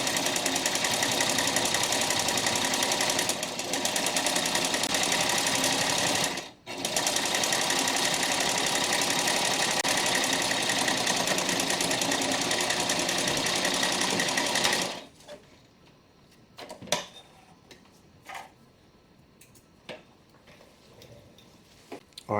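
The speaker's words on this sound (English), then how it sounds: "I like to double stitch them just for the extra strength" A sewing machine double-stitches a seam on a homemade quilt storage bag, running loudly and evenly for several seconds, pausing briefly, then continuing before stopping into quiet handling clicks.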